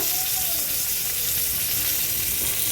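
Tomato going into a pan of fried onions, a loud, dense sizzle that holds steady and close for a few seconds, with no talk.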